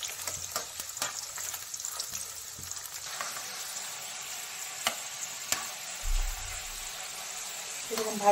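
Lentils for crunchy Bengali dalmut deep frying in hot oil in a wok, a steady soft sizzle with occasional stirring clinks and scrapes, close by and fairly quiet throughout.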